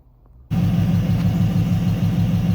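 LS-swapped Chevrolet C10 pickup engine firing up after silence, then settling into a loud, steady, close idle with a low rumbling pulse.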